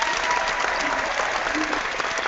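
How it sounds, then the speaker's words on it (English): Students in a science classroom clap together in a loud, continuous burst of many hands, dense and steady throughout with no clear speech on top. "So I'll give you the clap."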